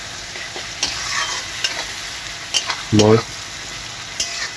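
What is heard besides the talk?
tomato masala being stirred in a frying pan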